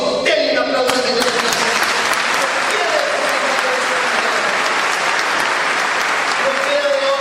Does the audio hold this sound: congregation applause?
yes